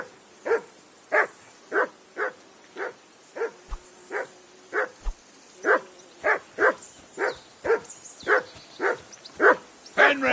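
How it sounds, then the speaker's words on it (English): A dog in the Kingdom Come: Deliverance II video game barks repeatedly, about twenty sharp, evenly spaced barks in a steady rhythm, loud and close with no talking. "That barking was a pain in the ass."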